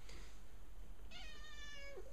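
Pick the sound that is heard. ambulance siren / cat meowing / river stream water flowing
cat meowing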